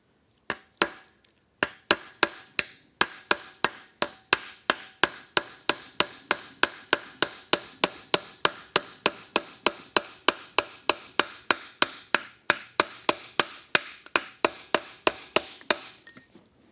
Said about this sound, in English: I got to hit out the dowel pins now.